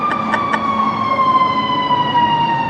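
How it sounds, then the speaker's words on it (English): An ambulance siren passes close by on a street, a loud sustained wailing tone sliding slowly downward in pitch as it goes, with a few short beeps at the start. "I think the ambulance is coming by"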